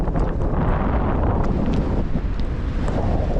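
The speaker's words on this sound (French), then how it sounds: "Oh putain, il y a du vent." Strong wind buffets the microphone on a mountain bike park summit overlooking the sea, a continuous loud rumbling gust with irregular surges and no speech.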